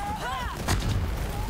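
A single heavy, booming gunshot goes off in the video game Borderlands 3, in the Moxxi's Heist of the Handsome Jackpot add-on, following a brief voice and shifting game sounds.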